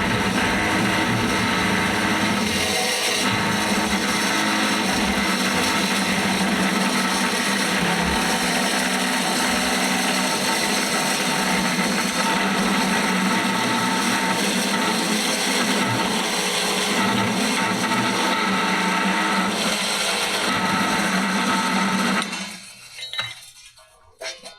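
Cold cut miter saw slicing through steel rectangular tubing, a dense, loud, steady grinding whine close by that holds for over twenty seconds before spinning down and fading out.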